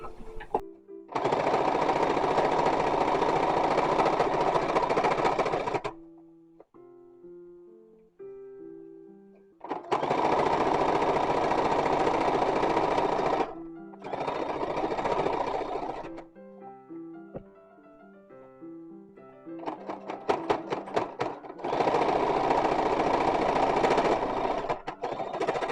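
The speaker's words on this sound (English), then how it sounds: "Alright, here's our hem. We're stitching it on machine." A sewing machine stitches a petticoat hem for an 1850s-1880s infant petticoat, running loud and steady in several long bursts separated by pauses where soft music plays.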